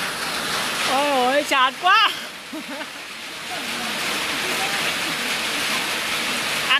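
Steady rain falls at a fishing pond, a continuous wash of hiss and patter throughout, with a person talking and exclaiming over it early on.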